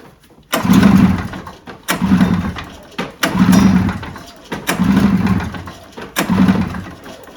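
A 1986 Arctic Cat El Tigre 6000 snowmobile engine with mufflers fitted catches and sputters in five loud, close bursts, each lasting about a second with short gaps between, as it struggles to keep running with the choke needing adjustment.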